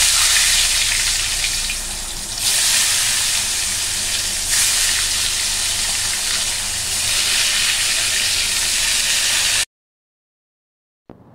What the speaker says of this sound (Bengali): তো এখন এই তেলেই বেগুনটা আগে ভেজে নিই।